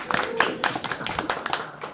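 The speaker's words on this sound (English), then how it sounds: "round of applause" A brief, light round of clapping from a modest crowd at a veterans farm training camp event, scattered hand claps at moderate distance with a little background murmur.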